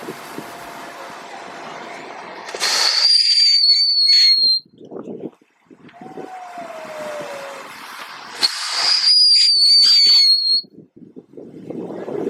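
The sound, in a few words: firework car going off with Rubik's cube strapped on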